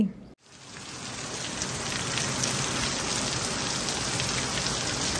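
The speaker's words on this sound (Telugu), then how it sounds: "చూడండి అసలు ఎంత పెద్ద వర్షం పడుతుందో" Heavy rain pours down in a dense, steady roar of hissing drops after a brief cut, loud and continuous with no voices.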